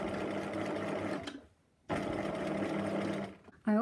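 A sewing machine stitching a twin-needle hem on jersey fabric, two close bursts of rapid whirring stitches separated by a brief pause, with a short restart at the end.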